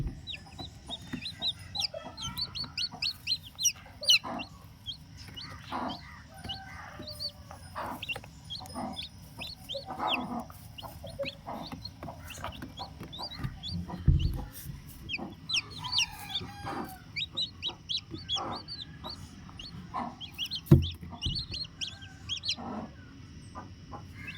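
Country hens cluck steadily with soft, high peeping chicks hatching throughout, occasional louder clucks, and a distant rooster crow amid a busy farmyard.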